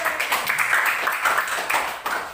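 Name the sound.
audience applause for a presenting group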